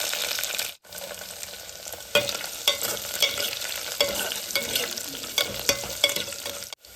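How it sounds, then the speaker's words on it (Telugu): Sliced onion and dried red chilies frying in oil in a pan for a Telugu amaranth-leaf dal, a steady close sizzle with frequent stirring scrapes and clinks. "ఎండుమిర్చి కూడా కొంచెం వేగిన తర్వాత"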